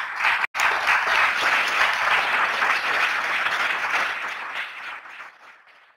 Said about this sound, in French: Donc, une bonne main d'applaudissements pour tous nos panélistes et pour vous.